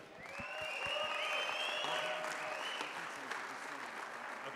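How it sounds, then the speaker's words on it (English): Audience applause and cheering fill a hall at a 2018 MotoAmerica motorcycle racing awards night, a steady dense roar of clapping with whoops and whistles that swells and holds for several seconds. "everybody gets to cheer him on too"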